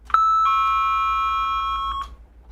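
A doorbell rings with a sharp electronic two-tone chime, loud and near, the second tone holding steadily before cutting off into quiet.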